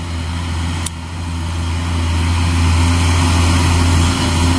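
An old Hino Jumbo truck rolls past on a road in Bogor, its diesel engine a steady, loud low rumble that swells gradually as it draws nearer.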